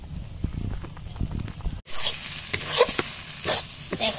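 Food cooks in a home kitchen pan, with soft scraping and stirring first, then a sudden burst of loud sizzling and frying with occasional spoon clatter.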